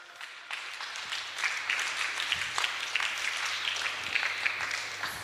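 A church congregation applauding and acclaiming, with many hands clapping in a lively, building burst that stays dense and close, under a faint low hum.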